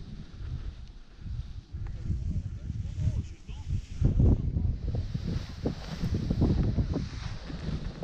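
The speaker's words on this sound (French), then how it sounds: "Et mauvaise surprise, au moment où je me dis je vais décoller, des grosses rafales." Strong wind gusts buffet the microphone at a paragliding takeoff site, a rough, rumbling roar that rises and falls in surges throughout.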